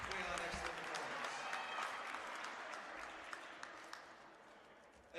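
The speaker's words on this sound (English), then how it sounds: "And one more big round of applause for Tri-Valley" Crowd applauding the Tri-Valley girls basketball team at a game against Ellenville: steady, dense clapping that fills the gym, sustained throughout and fading slightly toward the end.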